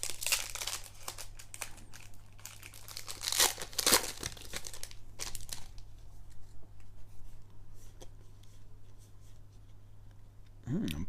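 Magic: The Gathering Amonkhet booster pack wrapper being torn open and crinkled up close, with irregular bursts of rustling and crackling throughout.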